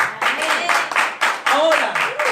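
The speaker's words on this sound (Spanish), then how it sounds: "Aplaudile, aplaudile." A church congregation applauding during a Spanish-language sermon, with rhythmic bursts of clapping carried along under raised voices and singing-like calls.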